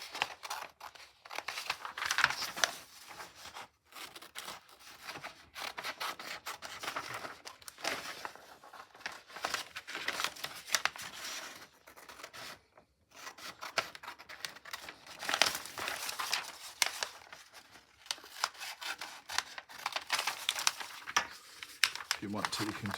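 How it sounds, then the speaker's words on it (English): Scissors snip steadily through a sheet of paper while a cube net is cut out, with rustling and crinkling as the page is turned. Close and continuous, with a few brief pauses, and a voice talks over it. "When I cut it out, you'll see that I keep turning the page so that I'm always cutting in front of me, keeping the scissors in the same place."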